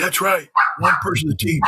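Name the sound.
dog barking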